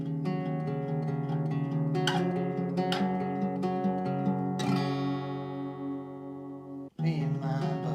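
Guitar plays the intro of a song at full tempo, a continuous flow of picked notes and ringing chords with a few sharper strums, a brief gap near the end before the pattern resumes, unaccompanied.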